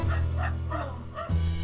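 A dog gives a few short, sharp barks and yips, close and fairly loud, with a brief pause before a final deeper bark.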